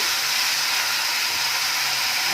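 A splash of water hits a hot pan during cooking of Schezwan chicken momos, releasing a loud, steady, close hiss of steam and sizzle that holds without a break.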